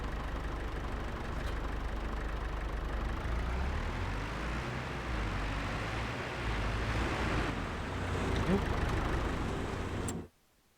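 An old used tractor engine runs at a steady idle, a continuous low rumbling drone that holds level before cutting off abruptly near the end.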